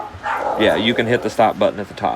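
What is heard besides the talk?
dogs barking downstairs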